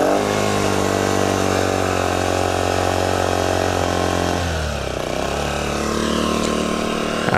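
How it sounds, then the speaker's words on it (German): A Denqbar DQ 1200 inverter generator runs loud and steady at close range, then its engine note sags and settles toward idle partway through before holding at the lower speed. "wie der Generator fast auf den Leerlauf zurückfällt"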